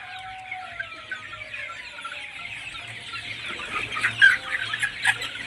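A flock of two-month-old chickens on a poultry farm keeps up a steady chatter of soft clucks and occasional squeals, moderately close, with no talking.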